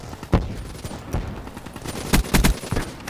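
Gunfire in a Black Ops 3 team deathmatch: a handful of sharp, separate shots scattered across a few seconds, with a tight cluster of bursts near the end, all over a steady busy game backdrop and no talk.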